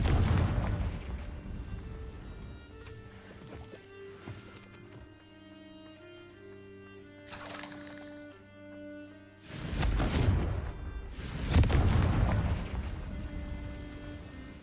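Confringo blasting spells explode in the video game Hogwarts Legacy. Several loud, broad booming bursts strike in quick succession over a sustained musical backdrop, with the strongest blasts clustered toward the end.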